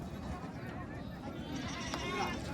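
Goats bleat now and then at a bustling rural goat market in Kalamnuri taluka, Hingoli district, the calls faint and partly buried under steady crowd noise and nearby voices.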